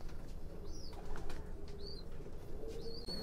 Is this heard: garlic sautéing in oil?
no